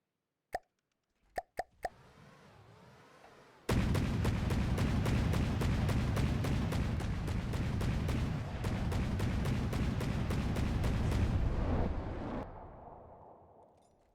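Anti-missile guns in From the Depths firing at incoming missiles: a few sharp early pops, then a loud, dense, sustained rattle of rapid shots lasting about eight seconds before cutting off and fading.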